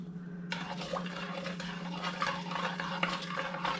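Muskrat meat seasoned with garlic powder being stirred in a stir-fry pan, with a close, continuous scraping and sizzling clatter and no voices.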